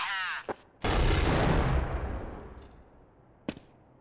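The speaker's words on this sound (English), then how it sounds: "Here an example with HE grenade to point out where your flash would explode." An HE grenade in Counter-Strike bursts in a single loud, close explosion with a long rumbling tail that fades over a few seconds, preceded by a brief click and followed by a short sharp tick.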